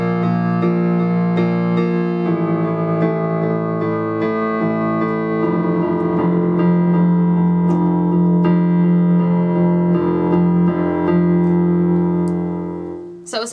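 Piano plays a song from the game Transistor with sustained chords over a bass line in quarter notes, the notes ringing steadily and fairly loud before stopping abruptly.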